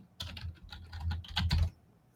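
Computer keyboard typing in a burst of quick, fairly quiet keystrokes lasting under two seconds, close by with no voices.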